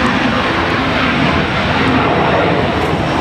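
Small executive jet departing Raleigh-Durham International on a windy day, engine noise a loud, dense, even roar filling the brief moment with no voices.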